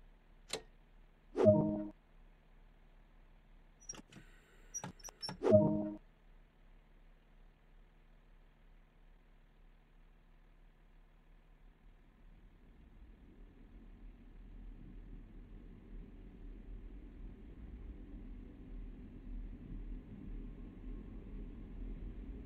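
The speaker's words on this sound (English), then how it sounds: "bring the train up to speed, set the reverser to forward and apply a small amount of power using the combined throttle brake" A Class 166 diesel train pulling away in Train Sim World: a few sharp clicks at first, then a quiet, low engine drone that steadily swells as it gathers speed.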